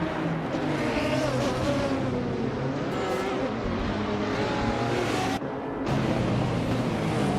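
Race cars launch together at the start of a video game race, including a Ferrari F40, as several engines roar and rev in a loud continuous drone with shifting pitch and brief gear-change dips.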